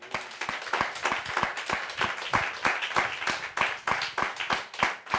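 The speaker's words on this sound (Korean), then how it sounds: "우리 이 하나님의 귀한 놀라운 사랑에 박수로 영광 올리겠습니다." A congregation at a church revival meeting claps together in praise, a quick, fairly regular rhythm of distinct sharp claps from many hands, moderately close and continuing steadily throughout without talk.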